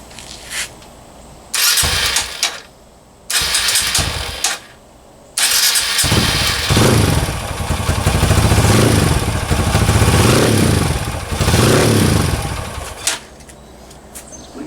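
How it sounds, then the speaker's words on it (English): A Kawasaki KLX 140 dirt bike with a big bore kit cranks in several short bursts, then catches and runs on its first heat cycle, a close, loud, uneven idle with blips of throttle. "we'll start the first heat cycle, which is going to be bring the motor up warm but not fully operating temperature"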